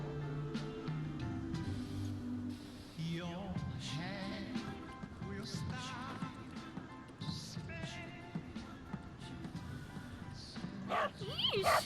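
A dog barks in a video game, with short yips and bow-wows scattered through game music and sound effects, under players' podcast talk.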